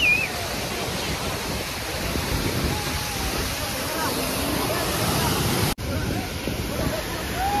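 Water flows in a continuous broad rush, loud and steady, mixed with wind buffeting the microphone. A sharp dropout near the end briefly cuts the sound before it resumes.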